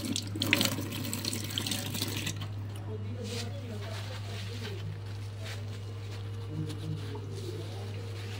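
Water running from a kitchen sink faucet, a steady close splashing stream that begins loud, then settles into softer trickling and dripping under a constant low hum while a person talks over it.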